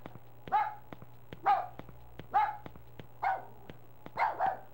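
Dog barking in the 2006 video game Rule of Rose, a series of six or so evenly spaced single barks, moderately close, with regular sharp ticks and a low steady hum between them.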